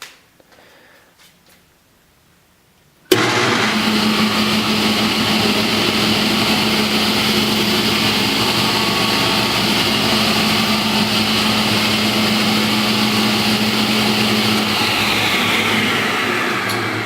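A restored 1966 Powermatic 66 table saw with a Century 2 hp motor switches on after near silence, jumping straight to a loud, steady, close whine and hum that runs on evenly without load.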